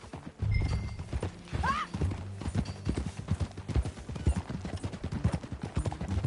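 Steady clip-clop of horse hooves at a walking pace in Red Dead Redemption 2, close and even, with a brief whinny early on and game ambience beneath.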